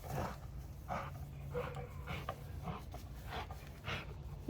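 A dog pants in short, rhythmic breaths and gives a few soft whines or low woofs during an outdoor family day. The sounds are moderately close over quiet background noise, and nobody speaks.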